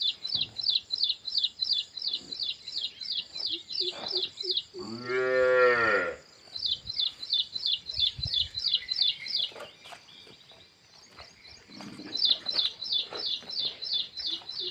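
A cow at a farm gives one long, loud moo partway through, while birds chirp in quick repeated bursts before and after it.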